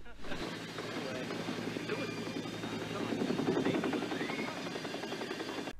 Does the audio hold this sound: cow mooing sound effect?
no